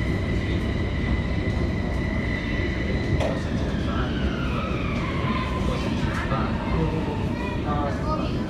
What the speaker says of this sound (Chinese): 欢迎再次乘坐广州地铁。列车即将到达